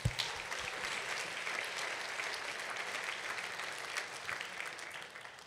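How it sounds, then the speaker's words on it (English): Applause for the winners of a trivia contest at a food waste event: dense, steady clapping from a crowd filling the whole stretch at even loudness, with no talk over it. "Let's give them a round of applause."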